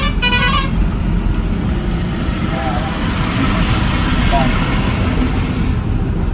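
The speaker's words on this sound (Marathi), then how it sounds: "मुद्दाम हॉर्न वाजवतो" A travel bus sounds its horn in short toots on a highway during a Punjab-to-Pune trip, heard close amid loud, continuous road and engine noise.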